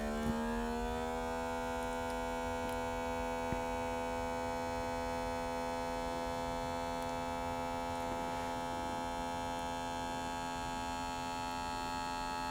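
A food dehydrator drying frozen vegetables gives off a thin, high-pitched electric whine that holds a steady tone over a low hum, continuous and fairly quiet throughout.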